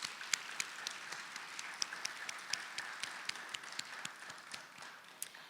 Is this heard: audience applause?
yes